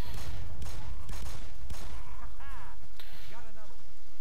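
Loud, dense gunfire and blasts in the video game Black Mesa fill the moment, with creature-like warbling cries rising over the din and a voice talking underneath.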